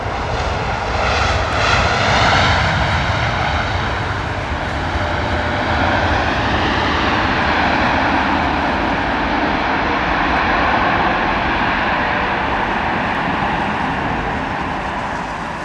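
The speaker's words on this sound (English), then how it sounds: "United Airlines Dreamliner coming in, beautiful." A United Airlines Boeing 787-9 Dreamliner, arriving from Denver, lands at London Heathrow in wet, windy weather, its loud jet roar steady and close throughout with a sweeping whine as it passes.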